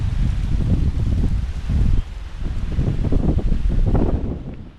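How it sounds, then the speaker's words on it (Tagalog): Strong wind buffets the microphone in heavy, low roaring gusts throughout on Borawan Island, Padre Burgos, Quezon, with a brief lull near the middle before the rumble surges again. "kaya lang ngayong araw may malakas ang hangin."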